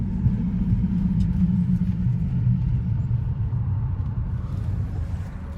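A BMW 335i engine runs under a clutch being slipped, a loud, steady low rumble that holds close and constant throughout, easing slightly toward the end with no talk over it.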